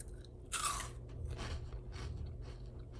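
Crisp homemade croutons crunched close to the mic, one sharp bite followed by several softer chewing crunches.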